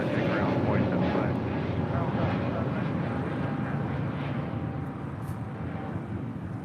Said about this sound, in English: The Emirates A380 now rolling.